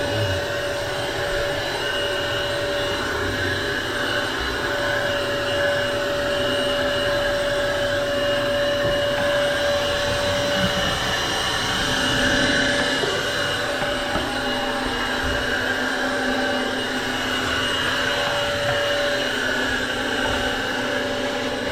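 A vacuum cleaner runs steadily on a roof installation job, its loud constant motor whine and airy rush continuing unbroken without speech.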